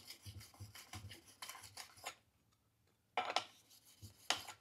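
Steady back-and-forth rasping strokes of a metal card scraper on a sharpening stone, a rapid run of scrapes, a brief pause, then two more bursts, close and fairly loud.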